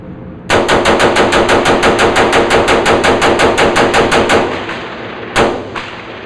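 A Bushmaster XM-15-ES2S rifle fires a long rapid string of loud, evenly spaced shots at close range, followed by a lone final shot and fading echo.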